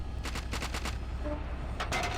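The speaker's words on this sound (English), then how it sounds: "Do you see that light machine gun over there firing?" In the Steel Beasts tank simulation game, APC cannons and an infantry light machine gun fire in bursts, rapid distant-sounding shots repeating in two clusters over a constant low rumble.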